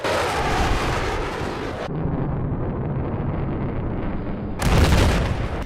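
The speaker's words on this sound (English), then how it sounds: "The primary gun on the plane is the same as a tank cannon" AC-130 gunship cannon firing in Battlefield 4: heavy booming blasts with rumbling roar, a loud burst, a lower sustained rumble in the middle, then another loud blast near the end.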